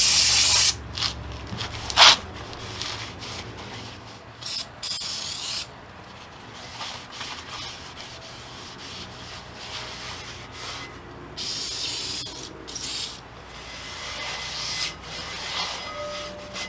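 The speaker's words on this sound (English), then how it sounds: "that's what brake cleaner is for." Brake cleaner hisses from a spray can inside a fifth wheel trailer brake drum, several short close bursts with pauses between, no talking.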